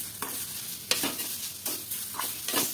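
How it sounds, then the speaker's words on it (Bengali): Carrot filling sizzles gently in a lightly oiled pan as a spatula stirs and scrapes it in regular strokes about every half second, close and clear, with no talking. "এবার খুব ভালো করে মিশিয়ে আর একটুখানি নাড়তে থাকবো, মানে ভাজা ভাজা করে নেব।"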